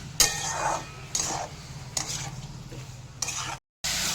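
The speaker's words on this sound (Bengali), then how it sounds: "পেস্টটা দিয়ে 2-4 মিনিট নাড়াচাড়া করছি, যাতে টমেটোর কাঁচা গন্ধটা চলে যায়" Tomato paste stirred with mixed vegetables in a pan, several sharp scrapes and clanks of a spoon against metal over a low bubbling sizzle, close by, with a brief cut near the end.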